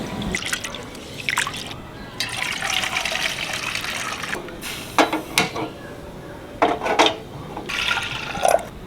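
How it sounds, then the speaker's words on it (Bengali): Black lentils being rinsed by hand in water, with splashing, drips and pouring in irregular bursts, close and fairly loud, no talk. "ডালে পাউডার দেওয়া থাকে তো তিন চারবার ধুয়ে নিতে হবে নাহলে পাউডারটা যায় না"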